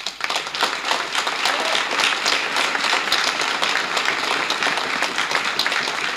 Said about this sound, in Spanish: le brindemos un gran aplauso